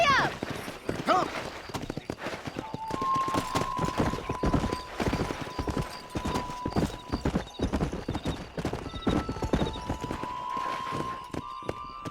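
Hooves clip-clop at a steady gallop in Red Dead Redemption, with a horse neighing amid the game's music and ambient sound. There is no clear talking over the hoofbeats.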